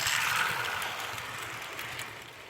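A Hornby Dublo model tank engine runs along the track with a steady, close mechanical whir and rattle that fades slightly as it moves away.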